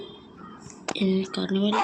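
A dog barks in the Roblox game Escape the Carnival: a few short, loud yelping barks close together, rising out of a quiet, low background.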